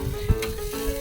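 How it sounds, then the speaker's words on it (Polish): Sausages sizzle on a charcoal grill lit with a chimney starter, a close, steady crackle and hiss with occasional pops. "Słyszycie ten dźwięk? To jest dźwięk skwierczenia,"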